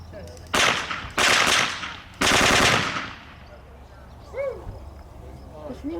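Test firing of guns at Fort George National Historic Site in Niagara-on-the-Lake: three loud, sustained bursts of rapid gunfire in quick succession, with quieter ambient crowd sound and faint chirps afterward.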